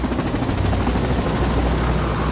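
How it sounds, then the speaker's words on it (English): A Philippine Navy helicopter near the Manila Bay waterfront gives a loud, steady rotor and engine roar that fills the whole stretch without a break, with no voices. "Philippine Navy, they have a helicopter here."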